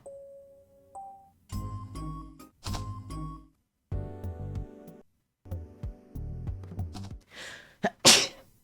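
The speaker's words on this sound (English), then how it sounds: "I must sneeze." A single sharp sneeze bursts out near the end, close and loud, following stretches of musical chimes and tones from a visual novel game playing in the background.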